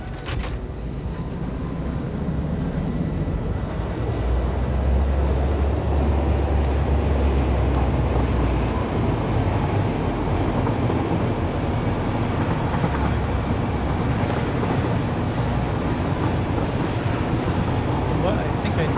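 A train in the video game Satisfactory rolls along, a steady, loud mechanical rumble with some rattling that continues throughout, while someone talks over it.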